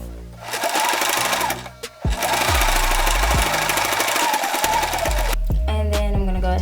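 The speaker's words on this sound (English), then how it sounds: "I take it and I fold it over twice, and then I just sew a straight stitch" Close and loud, a sewing machine straight-stitches a double-folded hem on a sheer mesh top in fast continuous runs. A brief pause comes near the two-second mark before the stitching resumes.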